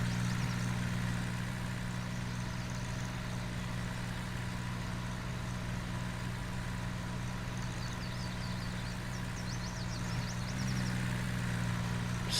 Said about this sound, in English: I love the engine sound on this. You can hear it working its socks off to get up this hill.